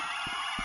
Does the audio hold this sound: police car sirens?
yes